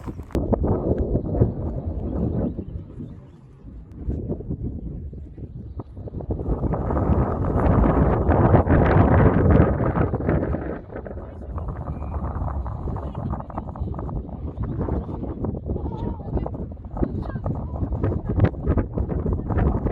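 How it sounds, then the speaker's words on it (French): Gusty wind buffets and rumbles across the microphone on Mount Fuji, Japan, swelling louder midway, while a voice talks over the blustery noise. "comme vous l'entendez certainement au son, le vent s'est levé"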